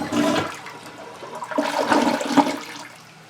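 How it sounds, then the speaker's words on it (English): A basement toilet flushes with a loud rush of water that surges, swirls and then drains away into quieter gurgling, with no talk over it. "I'll give you a video of what it looks like when you flush it"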